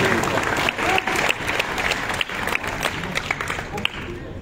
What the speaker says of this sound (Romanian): Vă rog să l aplaudăm.